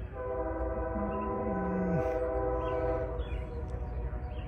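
CSX freight train Q415 led by locomotives 907 and 5307, with 5376 and 4762 mid-train, sounding a K5H horn as it rumbles past; one long sustained chord blast over the steady loud roll of the cars.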